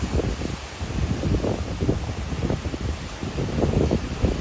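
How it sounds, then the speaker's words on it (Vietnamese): Strong wind roars steadily at the sea off Vung Tau, with waves surging and crashing in broad rolling bursts, loud and continuous with no talk. "nó nổi sóng nó, gió nó lên rất là mạnh các bạn"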